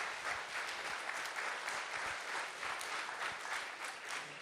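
An audience at a church kickoff event claps in steady, sustained applause, a dense patter of hands that stays fairly faint and even across the whole clip.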